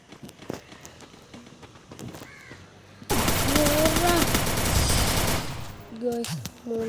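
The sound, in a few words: gunfire in a shooting video game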